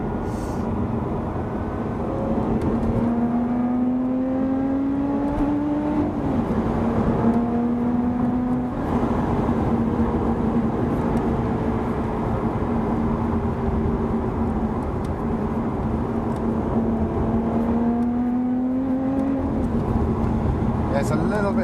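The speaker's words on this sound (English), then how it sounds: "You'll see a little bit of this car's overtaking ability," Lotus Evora GT430 overtaking on a British B road, engine note rising in repeated pulls as it accelerates, steady road and wind roar beneath, heard from inside the car with talk over it.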